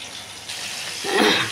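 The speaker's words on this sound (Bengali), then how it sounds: "সামান্য একটু জল দেবো" A little water pours into a mustard, poppy seed and peanut paste, a soft splashing gush that swells near the end over a steady background hiss.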